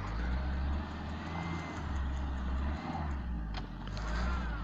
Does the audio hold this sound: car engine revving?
yes